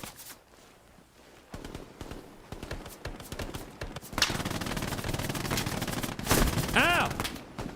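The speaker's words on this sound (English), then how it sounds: "Oh, that's an MG3." Gunfire from an MG3 machine gun in the World War II shooter Hell Let Loose, with dense bursts and battlefield noise building from about 1.5 s, loud sustained firing after 4 s, and a whistling tonal sweep near the end.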